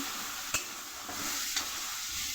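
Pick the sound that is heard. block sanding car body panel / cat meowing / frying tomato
frying tomato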